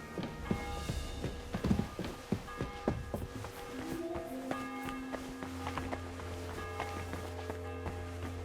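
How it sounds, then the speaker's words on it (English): A church bell rings out in a medieval town in Kingdom Come Deliverance II, sustained tolling tones layered with clopping horse hooves and footsteps early on, then fading into lingering, ringing bell tones. "The bell's ringing for Hans the 5th time"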